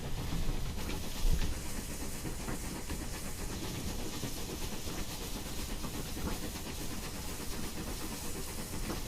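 A locomotive in the Train Simulator 2021 video game on The Canal Railway gives off a steady, dense hiss and rumble of running rails and machinery, continuous and unbroken throughout with no voices.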